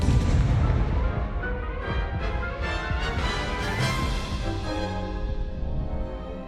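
A Confringo blasting spell goes off in the Hogwarts Legacy video game, heard as a dense, continuous rumble of booming impacts and crackling blasts filling the whole stretch at steady loudness.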